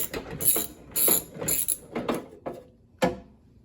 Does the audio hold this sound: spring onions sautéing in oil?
no